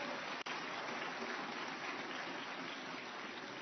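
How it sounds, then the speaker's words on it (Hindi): Loud, sustained applause from a large crowd at a ceremony releasing a commemorative postage stamp for Maharshi Dayanand Saraswati's 200th birth anniversary, a dense even roar of clapping throughout with one brief dropout near the start. "आप एक बार जोरदार तालियां बजाइए"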